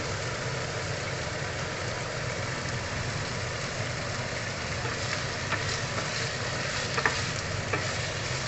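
Onion and garlic sauté in hot oil in a pan for pork noodles, making a steady, dense sizzle with occasional stirring scrapes, close and continuous, with no talking.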